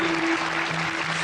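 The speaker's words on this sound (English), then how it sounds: "applaud now" A comedy show audience applauds in a brief, steady wash of clapping that fills the room at even loudness throughout.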